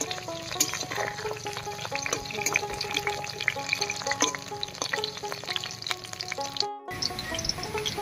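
Lentil paturi wrapped in pumpkin leaves fries in a pan over low heat with the lid off, giving a steady close sizzle and crackle with scattered pops and stirring scrapes; the sound briefly cuts out near the end.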